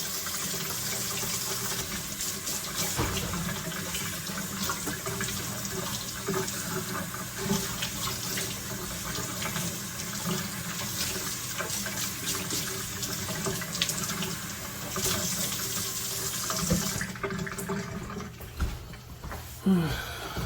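Tap water runs steadily into a kitchen sink during handwashing, a continuous close splashing stream that shifts slightly as hands move through it and shuts off near the end.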